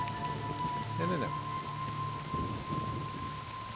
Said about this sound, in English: I love that we can see the rain running off it.